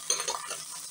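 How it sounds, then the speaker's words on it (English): Onions and peppers hitting hot oil in a pan, a brief close sizzle and crackle with stirring sounds, lasting about a second. "I'm going to put my onions and my pepper in my oil."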